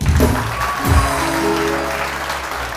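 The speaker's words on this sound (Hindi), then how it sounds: "रुबाब के लिए बहुत सारी तालियां" A studio audience on a morning television talk show claps for a guest, a continuous wash of applause at fairly loud level, with bursts of low musical or voiced sound near the start.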